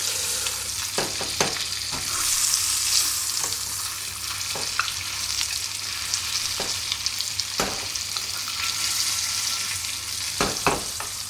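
Salmon fries in a hot pan with a steady bright sizzle and hiss, broken by occasional utensil taps and scrapes, close and continuous.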